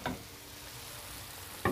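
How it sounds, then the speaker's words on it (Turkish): Potato dish cooking uncovered in a pan, a soft steady sizzle and simmer running throughout, with a couple of brief louder stirring clatters at the start and end. "Suyunu çekmesi için 5 dakikada ağzı açık pişiriyorum."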